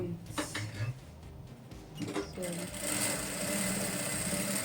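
A sewing machine runs steadily, stitching quilting lines on a bustier, its mechanical whir building into a continuous run after a few short starts, close and loud with a voice talking over the early part.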